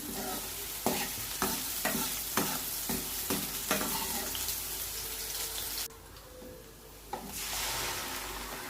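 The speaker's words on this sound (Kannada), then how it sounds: "ಸೊ ಇವಾಗ ಎಣ್ಣೆ ಹಾಕ್ಕೊಳ್ಳೋಣ. ಇದಕ್ಕೆ ಈರುಳ್ಳಿ ಫ್ರೈ ಮಾಡ್ಕೊಳ್ಳೋಣ ಚೆನ್ನಾಗಿ." Onions frying in hot oil in a pan, a close, continuous sizzle broken by repeated stirring scrapes, with a short quieter stretch before the sizzling swells again; no voices.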